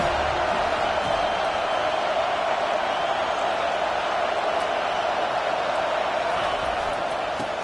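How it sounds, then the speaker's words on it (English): A stadium crowd at a Michigan versus FSU football game roars behind the defense on a third down. The noise is a dense, steady wall from start to finish, without distinct claps or voices. "Decibels rising as the crowd gets behind this defense on 3rd down."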